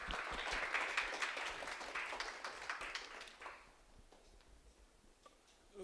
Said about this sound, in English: So give round applause to Vineet Rai.